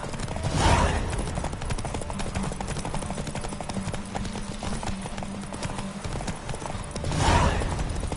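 Hooves pound in a rapid, continuous clatter as horses race in The Witcher, with a sharp neigh at the opening and another near the end.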